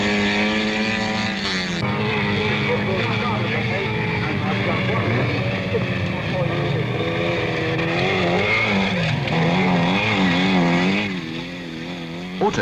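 A 1970s autocross car pulls away singly on a dirt course, its engine note climbing and shifting through gears, loud and close, then fading, with a commentator talking over it.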